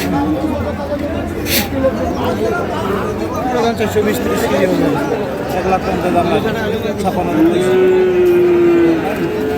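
A cow lets out a couple of low moos amid a busy crowd of people talking at a cattle market in Tangail selling Sahiwal and crossbred bulls.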